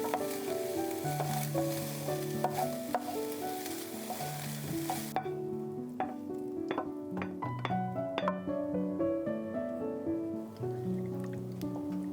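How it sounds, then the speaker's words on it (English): Diced ham steak sizzles in a little olive oil in a skillet, a steady broadband hiss for about five seconds that then drops away, all under prominent background music. "I'm going to put that into a skillet with just a little bit of olive oil to allow that to get nice and golden brown"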